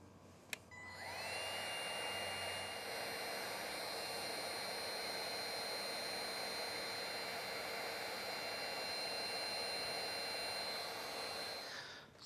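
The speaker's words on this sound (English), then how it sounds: "now the heat gun should melt a solvent or glue inside those pink things" A heat gun runs steadily and loud for about twelve seconds, melting the glue inside pink heat-shrink connectors on motorcycle turn-signal wiring, with a high whining hiss and a brief click at start-up.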